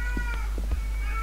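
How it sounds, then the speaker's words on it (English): A cat meowing in the horror video game Erie: a few short, plaintive mews scattered over a constant low hum, with no speech. "that cat. A cat? You can hear it everywhere you go."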